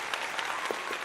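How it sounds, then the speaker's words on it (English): Steady applause from an audience at a live awards ceremony. Dense, even clapping continues without a break, with faint crowd noise underneath. "We'll get some applause going here"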